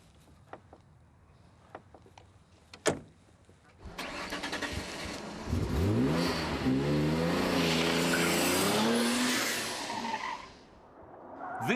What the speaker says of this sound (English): This is a Noble M12 GTO